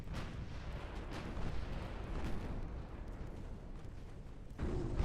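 Torpedo hit on a warship in Ultimate Admiral Dreadnoughts, a series of dull muffled booms and rumbling thuds over a low continuous roar, with a heavier impact near the end.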